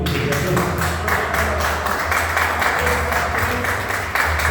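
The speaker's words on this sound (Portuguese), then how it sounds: "As palmas ao Senhor." A standing church congregation claps along in a loud, rhythmic, repeated pattern of hand claps over a steady low musical hum.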